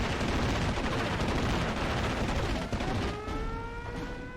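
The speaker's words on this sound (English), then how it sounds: "I have brought in a strafing run from the ME-109 G6s." Strafing run by Messerschmitt Me 109 G6 fighters in the WWII strategy game Steel Division: Normandy 44, a dense, continuous roar of machine-gun and cannon fire with explosions, easing slightly near the end as a high engine whine emerges.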